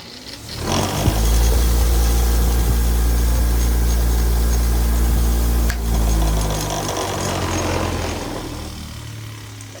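A bench grinder on a workshop bench starts up and runs as a loud, steady motor drone with a rattling buzz through the bench, dips briefly midway, then winds down and fades. No one speaks.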